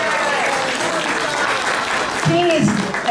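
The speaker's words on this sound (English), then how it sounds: "So give her a big round of applause too." An audience at a UN high-level side event applauds in a sustained round of clapping, while a speaker's voice carries on near the end.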